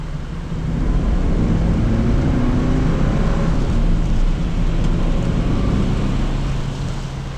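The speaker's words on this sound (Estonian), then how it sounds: "Vaatame selle tõmbe ka üle siin maantee peal, kuidas on." A car's engine pulls hard on a main road with a steady, loud drone of engine and road noise that holds for several seconds without talk.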